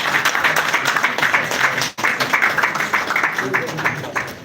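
A conference audience at the APC World Conference applauds the Honorable Minister of Information, dense sustained clapping from many hands that dips briefly midway and carries on with voices mixed in.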